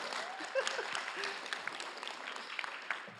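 Wedding guests clapping after the best man's speech, a soft scattered applause with a few distinct hand claps, somewhat distant and faint, with voices murmuring underneath.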